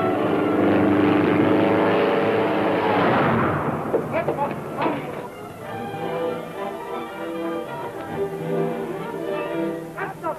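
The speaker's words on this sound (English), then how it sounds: "What's the matter with that plane? That motor don't sound right to me." A propeller airplane flying overhead in a 1937 western, with its motor running rough and sounding wrong. The engine roar starts loud and dense, then drops and fluctuates with sputtering bursts.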